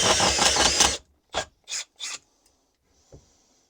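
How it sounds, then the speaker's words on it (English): A drain cleaning tool grinds through a blocked drain pipe in a few short, rasping bursts after a longer stretch of scraping, close and fairly loud, with brief silences between pulses. "it's just drilling out that pipe just as clean and easy as you can get"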